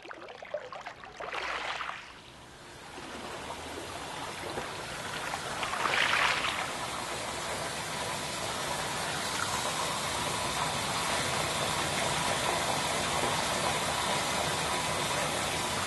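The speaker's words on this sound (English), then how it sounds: "The theater slowly fills with water." Water pours and gushes into a theater, a steady rushing flow that swells in bursts then settles into a continuous broad wash, fairly faint and without voices.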